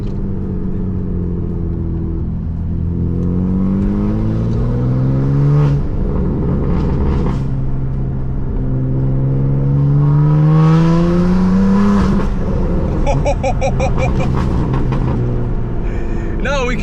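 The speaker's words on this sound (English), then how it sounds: "I hear the turbo a little more." From inside a BMW M3 running bigger turbos, the engine revs up through several gear changes, its rumbling tone sweeping upward again and again with turbo whistle and flutter, loud and continuous, with people talking briefly over it.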